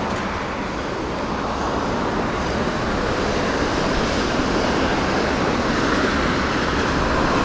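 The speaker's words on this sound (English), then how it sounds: "Yeah, train. That's the train I came." A train in Japan passes close by with a steady, dense roar of wheels and rolling cars that stays loud and unbroken throughout, with no talk over it.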